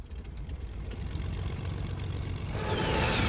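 A vehicle engine in the Fortnite video game starts and idles with a low, steady rumble, rising into a louder, brighter roar near the end, with no talk over it.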